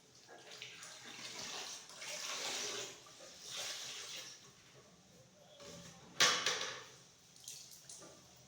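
Water sloshes and splashes as a floor is mopped at home, soft wet swishes and wringing with one sharper splash near the end, fairly quiet and close.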